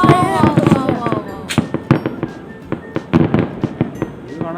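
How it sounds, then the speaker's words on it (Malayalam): New Year fireworks and firecrackers burst loudly and close, a rapid irregular string of sharp bangs and crackles, with voices talking over the first part. "ലാസ്റ്റിലത്തെ കുറെ പടക്കം"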